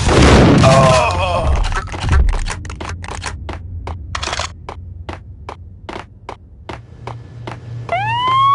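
Police sirens wail in the Max Payne video game, rising tones sweeping in near the end after a loud opening burst, with a regular run of sharp clicks and thumps and a low steady drone throughout.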